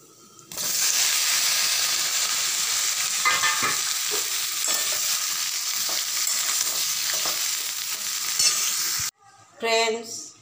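Tomatoes hit hot tempering oil, setting off a loud, sudden, continuous hiss that holds steady for several seconds before cutting off, followed by a brief burst of clatter.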